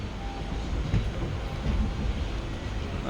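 A train rolls into Bhimavaram junction, a steady low rumble with faint rhythmic clatter from the wheels, heard at moderate distance with no talking.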